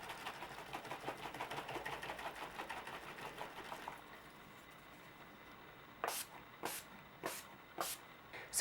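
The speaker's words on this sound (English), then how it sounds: "And then setting spray. This is the Urban Decay, Chill Makeup Setting Spray." Urban Decay Chill makeup setting spray: a quick rattling patter as the bottle is shaken, a pause, then five short, sharp hissing pumps of mist in an irregular rhythm.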